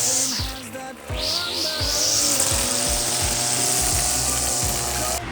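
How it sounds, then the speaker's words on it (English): A gas string trimmer runs steadily outdoors during lawn care work, a loud high whine with a choppy rhythmic mechanical pulsing underneath, close by and continuous. "I guess he's done with his string trimming."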